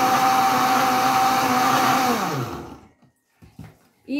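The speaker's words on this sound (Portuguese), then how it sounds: "Aí a gente vai bater isso daqui, pra não ficar pesado no liquidificador" A blender runs loud and steady while blending matruz (wormseed) herb leaves for juice, its motor pitch dropping as it spins down and stops after about two and a half seconds, followed by a few faint clicks and handling noises.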